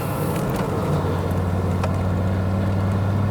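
Audi Quattro car engine while driving, a steady low drone with road and wind noise from inside the cabin, constant and fairly loud throughout.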